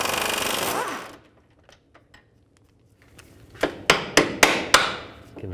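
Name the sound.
hammer tapping the CV axle end on a BMW X3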